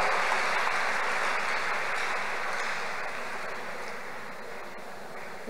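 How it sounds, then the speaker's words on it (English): Sustained applause from a church congregation, a steady broad wash of clapping that holds evenly and eases slightly toward the end, with no voices standing out. "Clap unto God."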